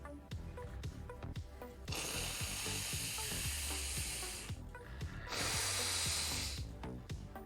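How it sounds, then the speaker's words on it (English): Someone blows their nose with two long, forceful bursts of air, each lasting a couple of seconds, close and fairly loud, with sniffling and faint background sounds between them. "Let me blow my nose."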